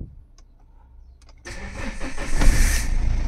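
A Mahindra Scorpio top model with about 86,662 km on it cranks briefly and fires up, then settles into a steady, fairly loud idle heard up close, following a quiet stretch with a few faint clicks.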